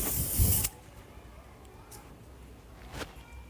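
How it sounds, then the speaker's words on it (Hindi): A short, loud hiss of hairspray sprayed onto hair curls, lasting about half a second up close, then fading into quiet room noise with a faint later rustle. "इसे आपके कर्ल्स पे स्प्रे करो"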